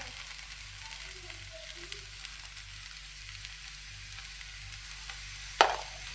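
Okra frying in a pan for a vegetable dish, a steady soft sizzle with occasional stirring scrapes and one sharp clink of a utensil near the end; no talking.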